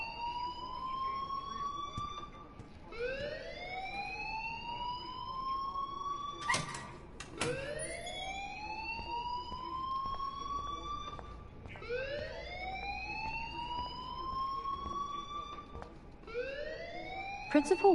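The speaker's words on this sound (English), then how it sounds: "please turn off that alarm since that's your job" A rising and falling electronic alarm wails in repeated sweeping cycles inside a school in the Life is Strange video game, loud and steady for the whole stretch with a couple of sharp knocks partway through.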